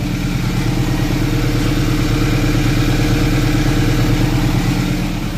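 A diesel engine idles on an Isuzu Q75 2007 canvas-covered seven-seat truck, a close, steady mid-low rumble with even pulsing and no speech.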